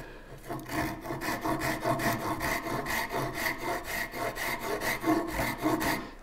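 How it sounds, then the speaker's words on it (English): A coarse hand rasp scrapes quickly back and forth over wood in a steady run of strokes, a close, gritty rasping that goes on without pause and has no talking over it. "it is not the most amazing rasp out there, but it is quite good, particularly for the price"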